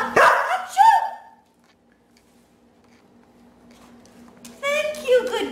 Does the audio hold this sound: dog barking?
yes